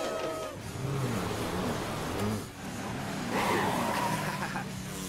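Cartoon truck racing fast before a crowd of fans, engine roar and skidding tire squeal running loud and continuous, with a brief dip midway before rising again.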